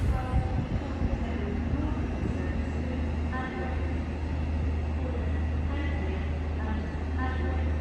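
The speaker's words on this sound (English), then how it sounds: "the Transpennine service to Liverpool has the road to cross the East Coast Main Line onto the" A TransPennine Express train to Liverpool crosses the East Coast Main Line at Doncaster station, a steady low rumble of the train rolling past with metallic squeals, while someone talks over it.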